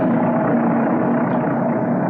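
An airplane engine drones steadily in flight, a loud, continuous close rumble that holds level throughout with no pauses or other sounds.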